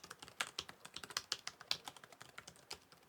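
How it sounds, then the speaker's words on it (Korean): Light, crisp keystrokes tap out an irregular rhythm on an LG UltraGear 17G90Q gaming laptop's full-size keyboard with number pad, close and fairly quiet, with no voices. "타이핑을 잠깐 해보겠습니다"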